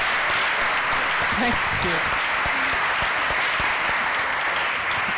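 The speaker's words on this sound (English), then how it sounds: "give her a round of applause" A lecture-hall audience at the Cambridge Union applauds steadily, a dense wash of clapping that holds for the whole stretch, with a brief spoken thanks heard over it.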